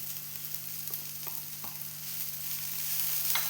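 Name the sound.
stirring spring onion stalk stir-fry sizzling in pan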